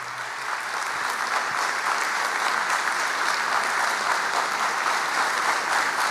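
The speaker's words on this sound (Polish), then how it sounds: "Ale to są wielkie brawa dla Stowarzyszenia Dom Miłosierdzia Bożego w Koszalinie." Sustained applause from a gala award audience honouring the Divine Mercy House association of Koszalin, a dense, even roar of clapping with no voices over it.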